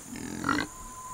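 A mini Jersey heifer gives a short low grunting moo, a single brief call at moderate distance outdoors.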